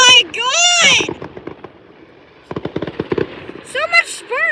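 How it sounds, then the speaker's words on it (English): Canada Day fireworks show with bursts and crackles popping between excited voices, loud bangs near the start and a run of sharp crackling pops in the middle as people talk and exclaim over them. "Yeah, fireworks are basically exploding rockets"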